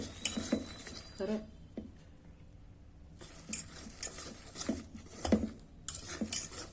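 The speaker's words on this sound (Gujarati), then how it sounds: "આપણે વિસ્કરથી કરી દઈશું મિક્સ" A whisk working through dhokla batter in a bowl, with scattered clinks and scraping strokes that come in bursts, pause, then resume close by; a voice speaks briefly.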